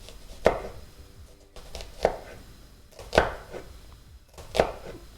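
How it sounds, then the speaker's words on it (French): A knife slices food finely on a cutting board, the aim being to mince it thinner than usual strips: four separate, sharp chopping strokes spaced about a second apart, close and clear, with no talking. "Là, je voudrais vraiment essayer de l'émincer."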